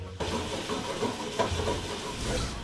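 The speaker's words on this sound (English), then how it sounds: "We're gonna throw that garlic right in with the onions and let it get nice and golden." Onions and garlic sizzle in olive oil in a pan with bay leaves and chili flakes, a steady close hiss and crackle running throughout without pause.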